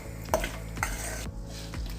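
A spoon scrapes and stirs through roasted rice flour and salt in a bowl, making a few distinct knocks and scuffs at a steady, unhurried pace, close and fairly quiet.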